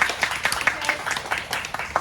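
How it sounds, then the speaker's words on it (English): An audience applauds at a business talk in Dubai, scattered light clapping that is fairly quiet and sparse and runs steadily through a brief stretch. "So I just want to give an applause for each of you here."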